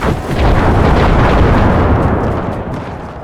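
Grenades going off in the strategy game Empire 2 during a musket-era infantry battle, a loud, heavy rumbling blast that swells quickly and then slowly fades, with no voices over it.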